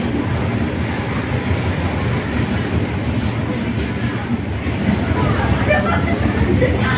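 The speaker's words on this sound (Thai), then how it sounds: "รถจักรเจ้าเก่านะครับ GE 4556 นะครับทำขบวน" GE diesel locomotive 4556 hauls crowded passenger train 262 toward Bangkok, producing a loud, continuous rolling rumble with rail clatter heard from on board. Faint crowd babble sits beneath it.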